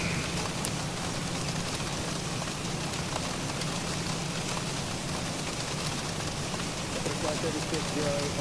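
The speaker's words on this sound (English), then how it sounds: "I don't see any rain. I can hear it slamming the aircraft though." Heavy rain pelts the airframe of an airliner in the X-Plane 12 flight simulator on a Los Angeles to Seattle flight, a dense, steady drumming hiss that continues unbroken throughout.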